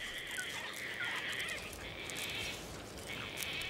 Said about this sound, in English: This environment is richer, attracting gang gang cockatoos.